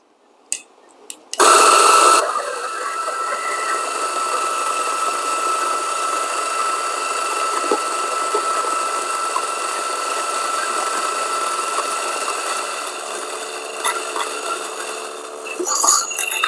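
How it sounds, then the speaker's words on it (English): A coffee grinder whirs steadily, grinding beans straight into a portafilter, starting abruptly after a few soft clicks and running loud and even for about fourteen seconds before faltering near the end. "let's grind the coffee directly into my portafilter"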